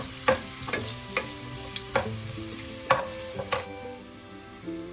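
A spoon stirs a cauliflower stir-fry with turmeric in a pan. Irregular scraping clinks fall every half second or so over a soft, steady sizzle, with no voices.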